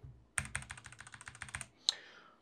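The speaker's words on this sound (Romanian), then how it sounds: "Tastatură semi-ieftină modificată" Keystrokes on a modified semi-cheap computer keyboard, a quick steady run of about a dozen close, crisp clicks ending in one sharper, louder clack, with no talking.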